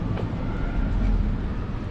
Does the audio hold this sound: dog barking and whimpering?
no